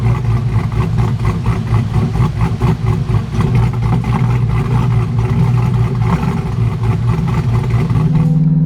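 A C8 Corvette with a cam and an adjustable-valve Borla exhaust idles loud and close with a choppy, lumpy rumble, pulsing rhythmically, then rises slightly in pitch as it revs near the end.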